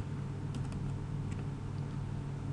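Someone types a number on a computer keyboard. Soft, quick key taps come in a short cluster over a low steady hum, with no voices.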